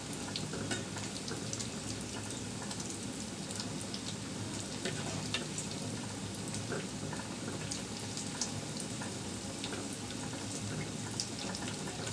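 Popcorn singara (samosa) frying in hot oil in small batches: a steady, dense sizzle with fine crackles and pops throughout, close and constant, with no voices.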